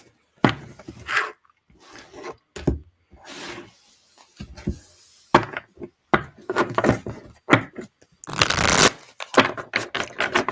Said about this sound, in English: Get my cards shuffled